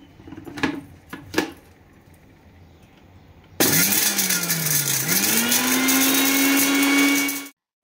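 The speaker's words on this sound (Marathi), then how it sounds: "त्यानंतर त्या मिक्सरला वाटणार आहे" An electric kitchen mixer grinds dried tulsi branches into powder. A couple of light knocks come first, then the motor kicks in with a loud, steady whirring whine that rises in pitch and holds for several seconds before cutting off abruptly.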